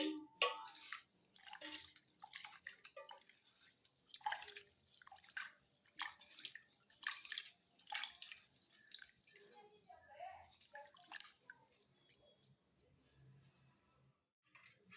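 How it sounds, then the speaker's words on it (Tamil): Water is poured over rice in a bowl and the grains are swished and rinsed by hand, with irregular splashes and drips in bursts between pauses, while someone talks over it. "அரிசிக்கு தண்ணி ஊற்றி நல்லா கழுவிக்கலாம்."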